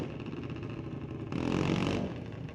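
A drag race car making a run at Mission Raceway Park during the NHRA Division 6 ET Finals: an engine rumble that swells into a louder, brighter roar for under a second, then drops back.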